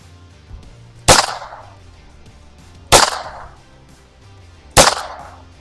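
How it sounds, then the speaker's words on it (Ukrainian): Three sharp, loud shots from a ZBROIA ALFA mod 820G self-defense revolver, fired at 5 metres and spaced about two seconds apart, each with a short ringing decay, over a low steady background hum. "Зробимо кілька пострілів на відстані 5 метрів та оцінимо результат."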